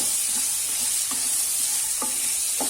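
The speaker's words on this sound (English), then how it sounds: "this has to be nicely fried, sauteed, you can say, nicely. First on high fire" Chopped bitter gourd sautéing in a pan on high heat, with a loud, constant sizzle and intermittent clinks and scrapes of a spoon stirring it.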